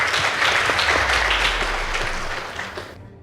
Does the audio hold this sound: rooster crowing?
no